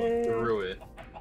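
A chicken in the Minecraft video game clucks in a short burst of choppy, nasal calls that fade out quickly.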